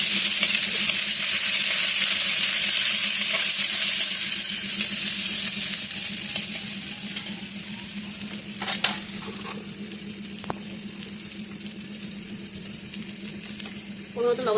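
Chopped onion, garlic, ginger and chili frying in hot oil for a fish dish, a steady broadband sizzle that softens slightly midway, with a few sharp clicks of a utensil near the end.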